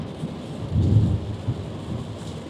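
Steady rain falls with a low thunder rumble swelling briefly in the middle, close and fairly loud, during a Canadian storm.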